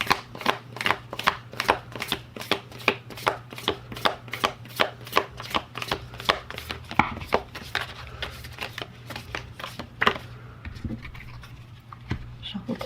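Close, steady riffling of oracle cards being shuffled by hand, a fast series of sharp flicks that slows and trails off near the end.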